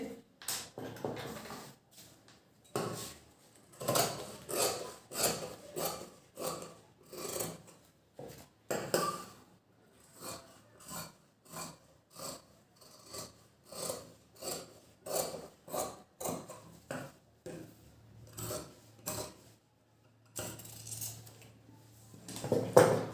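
Scissors cut blouse fabric for stitching, a size 38 one-tuck blouse, with a long run of rhythmic, close snipping and rasping strokes and short pauses between them.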